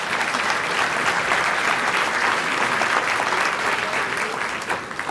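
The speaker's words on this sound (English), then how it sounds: "Let's give them all a round of applause and thank them." Loud, sustained applause fills a Hall of Fame awards dinner as a crowd thanks the sponsors, dense steady clapping that holds for several seconds and eases slightly at the end.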